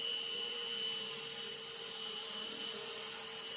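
An RC Era C189 remote-control helicopter flies in a backyard, its steady high-pitched rotor and motor whine holding at a constant close level throughout with no talking.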